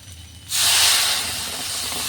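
Liquid broth poured into a hot pan of potatoes and spices gives a sudden loud hiss that flares, then settles to a steady sizzle after a quiet start.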